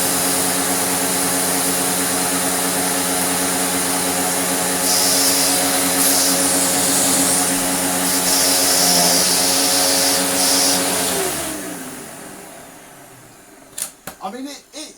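A Dirt Devil Eclipse Plus 6750UK vacuum cleaner runs with a loud, steady motor whine and rushing air, then winds down near the end, followed by a few clunks.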